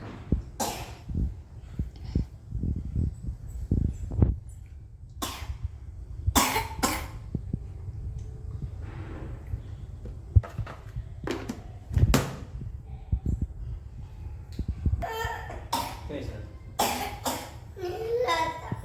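Repeated sharp coughs burst out one after another, loud and close, from someone with a cough, mixed with short bits of talk in a home kitchen where food and rasam are being served.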